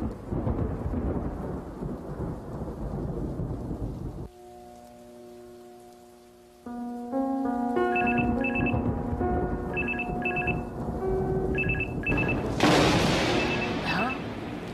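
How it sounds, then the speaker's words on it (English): A telephone in The Charnel House Trilogy video game rings in repeated bright electronic trills over a backdrop of rain and rolling thunder, following a quieter stretch of low musical tones. "Phone's ringing."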